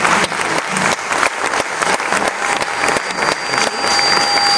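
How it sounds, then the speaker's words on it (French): An audience at a Congolese cinema awards ceremony applauds loudly and vigorously, a continuous close roar of many clapping hands with sharp individual claps standing out, sustained at full volume throughout. "je vous demande d'applaudir très très fort"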